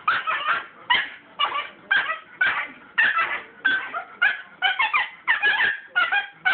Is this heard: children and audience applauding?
no